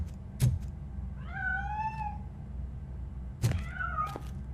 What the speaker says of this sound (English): I'm afraid this time it's a one-way street, Mr. Cat. But where are you hiding?